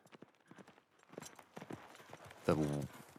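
Horse hooves from a cinematic in The Last of Us Part 2 clop softly beneath steady talking, followed by a brief low, loud burst near the end.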